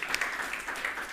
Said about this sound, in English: join me in giving a big round of applause to Sandra.